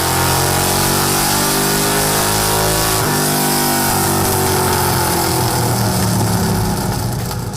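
Car engine running hard on a chassis dyno at a performance shop, loud and continuous with rising and falling revs through gear changes, a steady mechanical roar with no talking.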